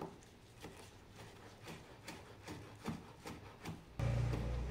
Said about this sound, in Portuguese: eu vou picar o hortelã